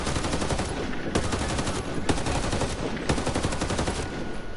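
Full-auto ACR rifle fire in the Ghost Recon video game, with dense, steady automatic bursts rattling nonstop for several seconds and a few sharper shots standing out, loud and close throughout.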